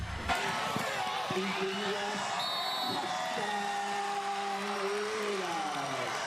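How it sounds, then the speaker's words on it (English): A stadium crowd roaring after a Seneca Valley high school football touchdown, a dense continuous wash of cheering and shouting with whoops and voices rising above it, heard loud throughout. "The roar of the crowd after a Seneca Valley touchdown"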